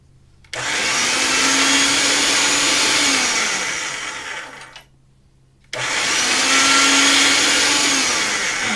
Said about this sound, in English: I'm going to go with it through the pasta machine until I get to the actual thickness of this.